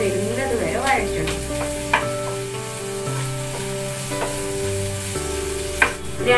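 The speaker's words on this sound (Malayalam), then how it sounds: "ഇത് നമുക്ക് നന്നായി ഒരു ബ്രൗൺ കളർ വരുന്നത് വരെ വഴറ്റണം." Onions sauté in a pan on the way to browning, sizzling steadily up close while a spoon stirs and scrapes against the metal in scattered knocks, with no voices.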